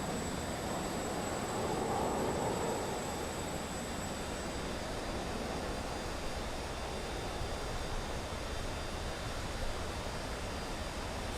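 A Russian warbird's engine in Microsoft Flight Simulator as the plane departs, a broad steady roar with a faint whine, swelling slightly early on and then holding level without any voices.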